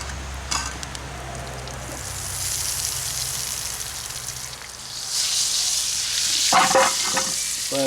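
Butter heating in a pan over a campfire with thawed seafood, giving a steady broadband sizzle that swells louder in the last few seconds, with a couple of brief clinks of utensil on pan and no talking.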